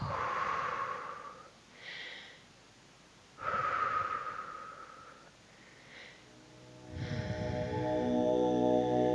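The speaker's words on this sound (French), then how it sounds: "J'inspire et je relâche." Deep, slow breaths during a yoga session, drawn in and released in long audible cycles, close and soft, with sniffing and snort-like inhalations and no talking.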